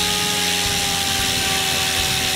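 A Goblin 500 RC helicopter's electric motor whines steadily at idle-up, a loud continuous tone with a broad hiss that shifts slightly in pitch as the speed setting changes.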